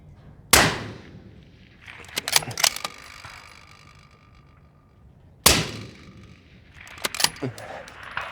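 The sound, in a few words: rimfire gunshots through Otter Creek Labs Infinity suppressor brake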